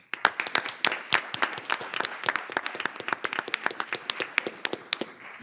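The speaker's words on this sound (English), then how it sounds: "One more round of applause." Audience applause following a performance at a school board of education meeting, a dense run of sharp claps that holds steady for several seconds with no voices over it.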